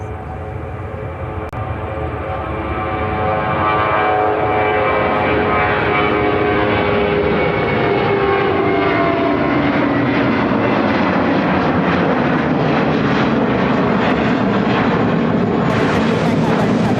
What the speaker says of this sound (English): Airlines 771 taking off to Newark on the A321.